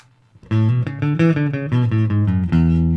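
Clean, sustained notes ring out from a Peavey T-40 electric bass played on its treble pickup with the phase swapped, a short run of about eight distinct plucked notes with bright, open harmonics after a brief quiet start.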